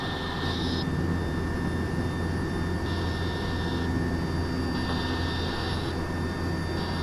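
A search and rescue helicopter on Greenland's ice sheet lifts off, its turbine engine and rotors making a loud, steady, close roar with a high whine that swells and fades in places.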